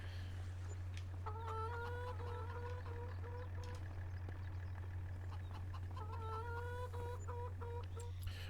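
Several chickens in the video game Farming Simulator 25 cluck in repeated bursts over a steady low hum, with a pause midway before the clucking resumes.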